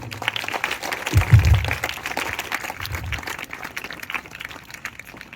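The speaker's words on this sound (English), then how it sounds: "Clap for these both the students." Students and staff at a school assembly clap for two students, a scattered, moderately distant patter of applause with some low thumps, fading gradually toward the end.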